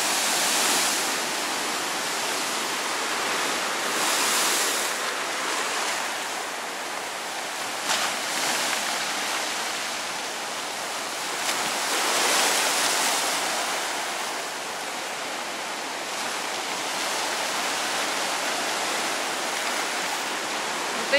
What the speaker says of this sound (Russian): Вот эти волны нам всю ночь поют свои колыбельные.